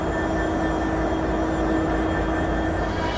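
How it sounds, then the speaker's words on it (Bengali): Diesel locomotive number 6625 idles and warms up at Khulna station before departure, a steady loud drone with a constant hum and faint tonal whine, unchanging throughout. "ইঞ্জিন গরম হচ্ছে, ইঞ্জিন গরম হলেই আমাদের ট্রেন ছেড়ে দিবে রাজধানী ঢাকার উদ্দেশ্যে।"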